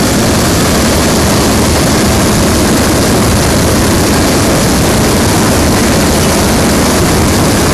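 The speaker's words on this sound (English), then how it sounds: "the drive linkage and the clutch and throttle that run the sheller" A 1985 Harold Kemmerer corn sheller runs loud and continuous, its engine and fans making a dense, unbroken roar that stays steady throughout, with no voices.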